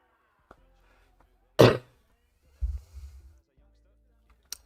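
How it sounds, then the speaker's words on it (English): A single sharp cough comes from a person alone in a quiet room, followed by a softer throat-clearing rumble, close to the microphone. "Sorry for the cough."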